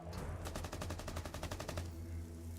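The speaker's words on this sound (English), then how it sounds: "Spartan finds the headshot" Rapid automatic gunfire in a competitive Rainbow Six esports match, a dense burst of evenly spaced shots lasting over a second, loud and up close above a low background rumble.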